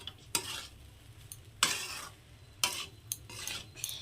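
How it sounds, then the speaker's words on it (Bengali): Chicken fried rice with soy sauce being stirred in a pan: a soft sizzle underlies several distinct scraping strokes of a metal spoon against the pan, spaced about a second apart. "কালারটা খুব গাঢ় আর কি ভালো করে মিশিয়ে দিচ্ছি"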